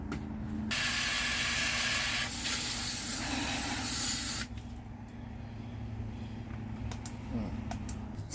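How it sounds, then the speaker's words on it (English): Neem oil sprayed onto garden plants from a sprayer: a loud continuous hissing spray for several seconds, an abrupt stop, then quieter mechanical clicks and outdoor background. "So what you need to do with neem oil is you spray around the base."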